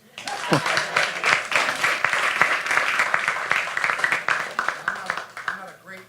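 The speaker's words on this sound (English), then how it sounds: "You're supposed to clap right there." Audience applause in a full panel session hall, a steady wash of clapping across the whole stretch, with some laughter and voices mixed in.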